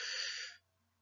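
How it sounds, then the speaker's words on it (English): A slow, audible inhale through the nose, close and steady for about half a second before stopping abruptly into near silence, as in a calming breathing exercise. "breathing in"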